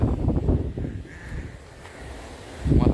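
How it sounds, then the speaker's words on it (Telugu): Strong gusty wind buffets the microphone on the beach at Mahabalipuram, a steady low roar that swells at the start and again at the end. "అంత గాలి వేస్తుంది చూడండి అలా"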